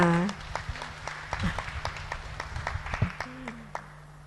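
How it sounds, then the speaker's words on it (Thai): Scattered audience applause at a university event gathering, a run of sharp claps spread across the stretch while a voice and other talk carry over it. "ขอเสียงปรบมือด้วยค่ะ"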